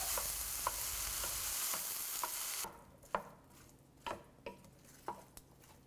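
A spatula stirs ridge gourd stir fry in a pan, sizzling loudly at first, then repeated scraping clacks against the pan at an irregular pace.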